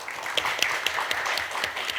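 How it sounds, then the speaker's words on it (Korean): A debate audience applauds after a speaker on military service policy finishes, a sustained ripple of clapping with a few sharper individual claps standing out, fairly close and without speech. "네, 박수 부탁드릴게요."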